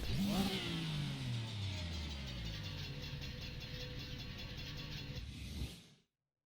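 Damaged race car engine in the Race Driver: Grid video game, a loud rough revving drone with a descending whine and rattling mechanical texture, steady for several seconds before cutting off abruptly.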